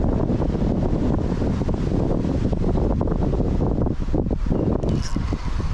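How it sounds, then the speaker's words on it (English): Strong wind roars steadily across the microphone at a fishing spot, a loud, continuous broadband buffeting that eases slightly near the end. "This wind is ridiculous"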